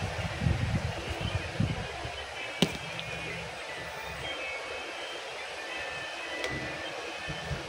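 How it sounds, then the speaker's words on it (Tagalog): Steady wind rumbles and buffets against the microphone, with a few sharp knocks and bumps. "Lakas ng hangin."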